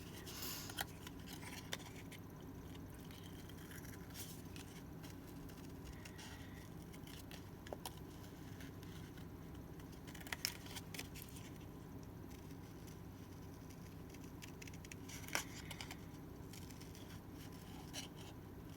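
Quiet snipping of scissors through paper, a few soft cuts and small crisp clicks over a faint steady background hum.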